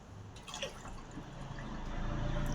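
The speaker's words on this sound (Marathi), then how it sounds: "ग्लास भरतो" A glass is filled with liquid in a home kitchen during the making of vermicelli milk kheer, producing a faint, continuous pour that grows gradually fuller.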